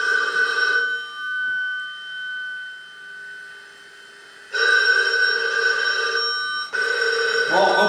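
A telephone rings loudly nearby with a steady electronic bell tone, two long bursts separated by a quiet gap and a final burst starting near the end.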